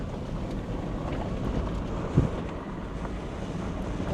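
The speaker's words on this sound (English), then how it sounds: "It's very windy today." Strong gusts roar steadily across the microphone at Big Bend Ranch State Park, a continuous loud buffeting rush with no voices.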